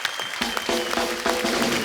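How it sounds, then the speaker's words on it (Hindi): Studio audience applause on a Hindi television comedy show, loud continuous clapping from a large crowd, close and steady for the whole stretch. "एक बार रहमान साहब के लिए जोरदार तालियां हो जाए"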